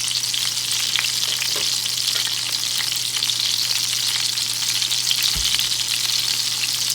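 Breaded veal cutlets frying in a pan, a continuous even sizzle and crackle of hot oil that stays steady and moderately loud, with no voices and one soft low thump near the end.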